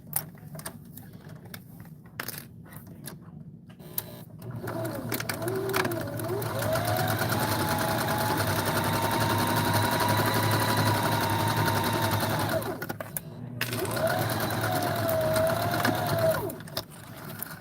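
A sewing machine runs a steady quarter-inch seam along the long edge of fabric, a continuous mechanical hum lasting several seconds, stopping briefly, then resuming for a shorter second run.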